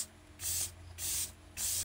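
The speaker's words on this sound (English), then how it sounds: "melt it with a setting spray." A setting spray mists over freshly applied makeup in three short, close hissing bursts separated by brief pauses, with no talking.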